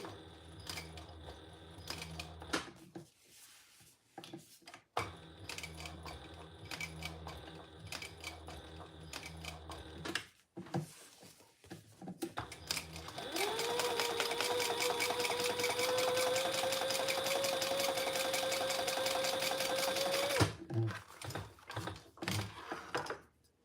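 A sewing machine stitches fabric for a triple sling in several separate runs, rapid mechanical chattering bursts broken by short pauses, with a long steady stretch and a rising whine in the middle; close and fairly quiet, no talking.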